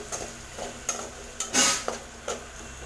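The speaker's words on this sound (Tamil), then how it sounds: "ஃப்ளேம் மீடியம் ஃப்ளேமில் வச்சே வெங்காயத்தை வதக்கிக்கோங்க" Onions sautéing over a medium flame in oil, cooked separately from turkey berries for a tamarind kuzhambu, with a soft steady sizzle broken by several sharp spoon-on-pan scrapes and stirring clatters, one louder burst near the middle.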